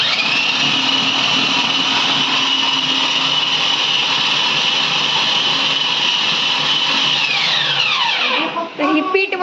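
A dough kneading machine runs with a loud, steady motor whine, then winds down and stops with a few rattles near the end.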